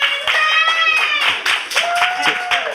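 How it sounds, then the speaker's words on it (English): A pub audience claps in scattered bursts, with voices and tonal sounds running underneath the applause. "let's give everybody a big round of applause."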